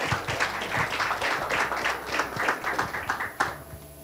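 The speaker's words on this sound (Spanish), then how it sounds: "Un fuerte aplauso." Applause from a church audience at the launch of a Jubilee 2025 Bible and hymnal, a steady patter of clapping at moderate level with faint murmuring underneath.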